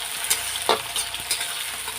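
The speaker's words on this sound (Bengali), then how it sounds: "তো পেঁয়াজটা আগে ভেজে নেব একটু লাল লাল করে," Onions frying in a pan toward a reddish brown, a steady close sizzle broken by a few sharp stirring scrapes, with no talking.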